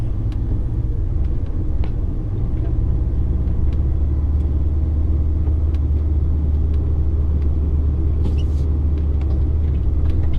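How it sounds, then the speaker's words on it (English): Heavy HGV truck engine driving up a narrow farm lane, a steady loud low rumble and drone throughout with faint clicks and rattles on top, no talking. "You can't be bringing that truck up here."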